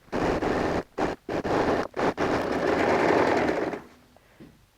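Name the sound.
sewing machine edge stitching a jeans bag flap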